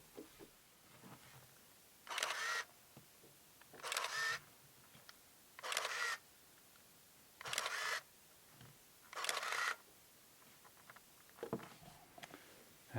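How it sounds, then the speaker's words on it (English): A Shinon CP7M film camera fires its shutter five times in a slow, even sequence, each release a crisp, close mechanical clack with a brief whirring tail, separated by quiet pauses. "Let's give you the sound of the shutter."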